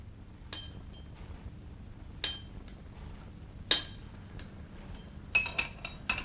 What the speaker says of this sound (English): At 8:10, I laid my mallet and chisel on the bench.